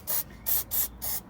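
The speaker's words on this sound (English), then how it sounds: "we just want to spray this everywhere" Aerosol spray coats a car chassis in four short hissing bursts, close and evenly spaced, with short gaps between them and no talk.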